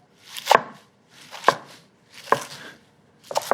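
Knife chopping mustard greens into ribbons on a board, four separate crisp chops spaced about a second apart, close and clear with quiet pauses between, no talking.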